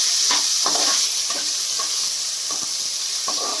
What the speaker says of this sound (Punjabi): ਹੁਣ ਪਿਆਜ਼ ਪਾਵਾਂਗੇ ਪਿਆਜ਼ ਨੂੰ ਭੁੰਨ ਲਾਂਗੇ ਚੰਗੀ ਤਰ੍ਹਾਂ